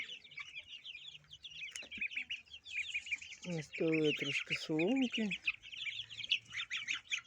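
Chicks, ducklings and goslings let out on a farm the morning after a hailstorm, with busy high peeping and chirping throughout and a few louder quacks or honks midway, while a person talks nearby.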